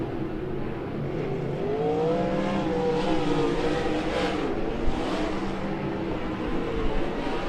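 Sprint cars race at Keller Auto Speedway as a steady, distant engine roar with rising and falling whine as cars circle the track, continuous with no voices.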